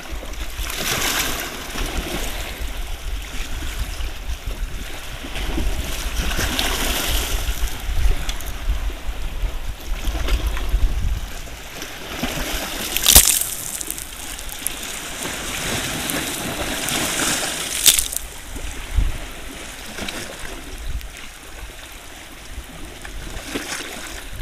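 Sea waves lapping and splashing near a fishing spot, a continuous watery wash with periodic louder surges and splashes, fairly close, with no talking.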